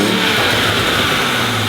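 A Toyota Supra mk5 fitted with a new exhaust and intake revs loudly up close, its engine note droning steady and full for a moment with no voices over it.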